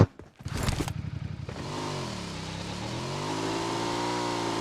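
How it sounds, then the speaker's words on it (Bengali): A car in a video game drives fast, a sustained engine drone with shifting pitch that rises and swoops, following a few seconds of rattling clatter at the start, with no one talking. "গাড়ি খুব জোরে যাচ্ছে।"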